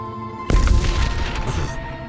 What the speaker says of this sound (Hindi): अब होगा धमाका।